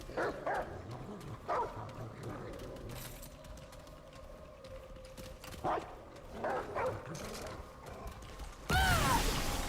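A dog summoned in the video game Remnant: From the Ashes barks in a few sharp bursts over mechanical creaking and ratcheting game sounds, ending in a louder high-pitched cry.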